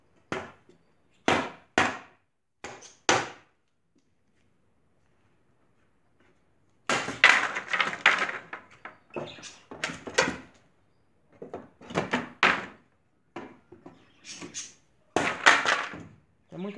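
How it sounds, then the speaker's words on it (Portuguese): Hammer knocking apart a wooden pallet, a run of sharp, close wooden knocks, first in separate single blows and then in rapid clustered bursts of banging, alone without talk. "Mas vou fazer uma pequena demonstração que é muito fácil, apenas com o martelo."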